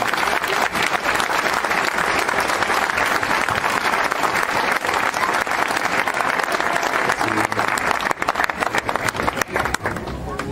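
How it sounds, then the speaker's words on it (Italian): Sustained crowd applause at an Italian patron saint festival for Saint Anthony of Padua in Montefalcione, loud and dense throughout, with some voices mixed into the clapping. "se ci vuole fare applausi."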